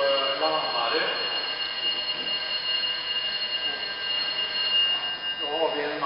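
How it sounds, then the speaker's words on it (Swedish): At the Grimeton radio station, an alarm signals that the water pumps are not running: a steady electronic tone holds throughout, and someone talks over it. "det är larmet, det talar om för oss att vi inte har vattenpumpen igång"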